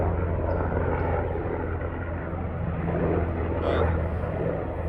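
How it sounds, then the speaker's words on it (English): A continuous low engine rumble with a throbbing rotor drone from a helicopter flying overhead, steady and fairly loud, fills the whole stretch with no other sounds standing out. "We have a helicopter here."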